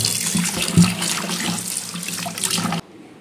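A tap runs steadily into a sink as meat is rinsed under it, a close and even wash of water that stops abruptly near the end.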